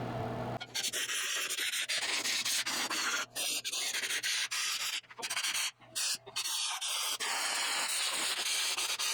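Compressed air blasts dust out of a dirty Eden Pure heater in a loud, continuous hiss that fills nearly the whole stretch, broken by a few brief pauses and short bursts.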